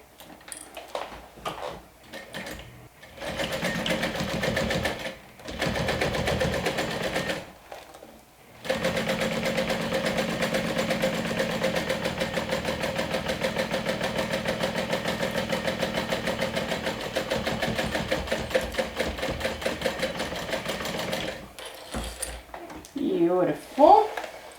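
A sewing machine stitches the front and lining of a crossbody bag together in long steady runs of rapid mechanical ticking, broken by brief pauses, close by, with a voice talking near the end.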